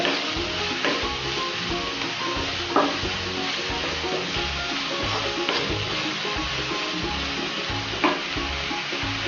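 Onions with a little salt sautéing in a pan for egg rolls, a steady close sizzle with regular rhythmic scraping strokes of stirring and an occasional louder clack of the spatula.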